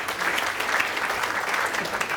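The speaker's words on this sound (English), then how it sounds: "Round of applause." Steady applause from an audience after a talk at a property network event, many hands clapping continuously at a fairly loud, even level with no talking.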